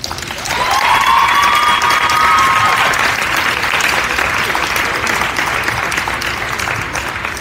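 An audience at a school athletic signing day claps loudly and steadily the whole time, with a few whoops rising over the dense crowd applause near the start.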